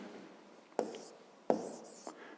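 A few short, faint pen strokes on paper, spaced apart, as an answer to a fifth-grade maths exercise on a square's perimeter and area is written down.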